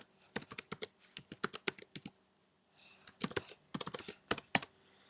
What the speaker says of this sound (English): Your keyboard is going in and out